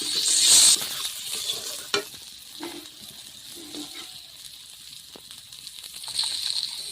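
Boiled potatoes being stirred and fried in a pan for a tangy rohu fish dish, a light sizzle with intermittent spoon scrapes and taps against the metal, quiet between strokes, no speech.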